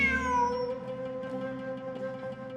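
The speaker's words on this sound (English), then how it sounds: "Look! A cat!" A cat in Genshin Impact lets out a single drawn-out meow that trails off, clear and close, with a faint game background and no talk.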